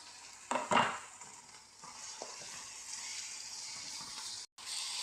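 Chicken pieces go into a hot pan for Pinoy-style chicken curry, giving a short burst of sizzle and a clatter of utensil, then a soft, continuous frying hiss with faint scraping; fairly quiet and close, with no talk.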